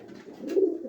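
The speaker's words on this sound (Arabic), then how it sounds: "حمام محبوس ليه كتير في الكرتونه." Pigeons kept in a cardboard box: a single soft, low coo swelling briefly, close and faint, with no talk.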